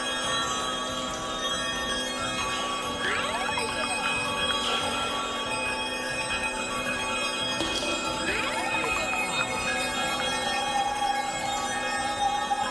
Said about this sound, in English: That's some chimes.